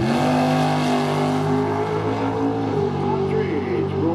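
Green Ford Mustang drag car at the drag strip start line, its engine roaring steadily and loud throughout with rising revs, a commentator talking over it.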